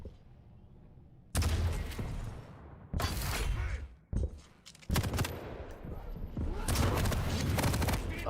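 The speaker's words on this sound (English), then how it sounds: "Oh, big damage with the rocket." Loud, broadband blasts from a rocket launcher in a competitive arena shooter match, several heavy explosive bursts in quick succession over a quieter background.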